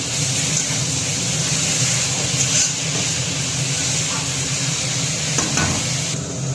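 Greens and potatoes frying with black cumin in a pan, a steady broadband sizzle held at an even level throughout, with faint stirring scrapes and no talking.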